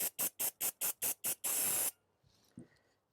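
Seven quick, evenly spaced bursts of aerosol cleaner spray onto a car throttle body, followed by one longer continuous hiss, then a faint rattle and clatter as the spraying stops.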